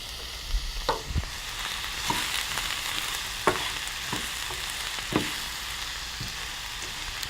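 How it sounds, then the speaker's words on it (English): Turkey picadillo with slivered almonds is stirred in a pan over low heat, a continuous close sizzle broken by several scraping stir strokes and light utensil knocks, with no voices. "I'm going to turn my burner to low heat and give that all a good mix."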